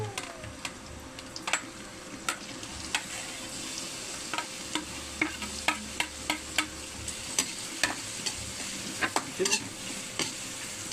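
Hotdogs sizzle steadily in a pan with garlic and onion, a constant frying hiss close by, broken by regular sharp clicks and scrapes of a utensil stirring, with no talking.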